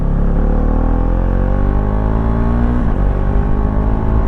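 A motorcycle engine, recorded close by a helmet-mounted vlogging mic with the visor shut, drones loudly as the rider accelerates, its pitch climbing through the gears with a brief dip partway through.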